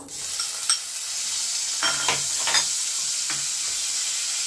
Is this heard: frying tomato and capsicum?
yes